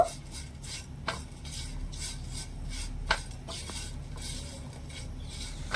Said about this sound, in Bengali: এখানে আমি সব মশলাগুলো দিয়ে খুব সুন্দরভাবে আলুর সাথে মিশিয়ে নিয়েছি